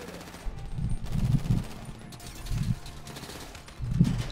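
Gunfire in the GTA 5 video game, with several bursts of shots at a moderate distance over a low rumbling background, arriving in uneven clusters across a few seconds.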